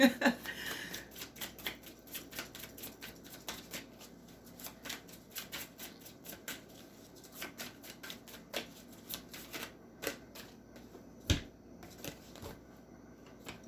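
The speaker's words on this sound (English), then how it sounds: "You're waiting for me to go through the deck to get the card, the right card." Tarot cards shuffled through a deck at a reading, a dense run of soft, quick riffling flicks and snaps close by that continue for many seconds with a few sharper taps, with no talk.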